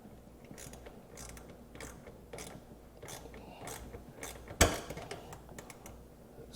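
A ratchet turning a bolt on a GM 3.6-liter V6 engine during removal, a steady series of faint close clicks with one sharper metallic knock midway.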